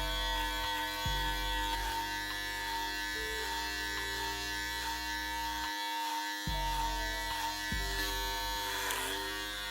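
A Wahl AquaBlade electric shaver with a 16mm guard buzzes steadily while shaving a head, its close, loud motor hum shifting in pitch and load as it passes over hair, with a brief break partway through.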